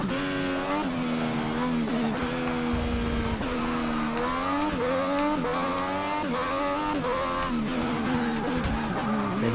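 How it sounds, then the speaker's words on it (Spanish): A race car in Forza Motorsport 6 howls through gear changes and hard braking, its engine note rising and dropping repeatedly with tire squeal layered over a loud, continuous mechanical roar. "Menudo frenazo ha pegado."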